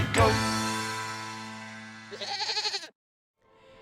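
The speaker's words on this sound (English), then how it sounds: "It's a five-legged goat." A bleat from a five-legged goat at Hong Kong Disneyland, heard in a loud ringing tone that decays over two seconds, then a wavering bleat and a brief silence before another faint sound.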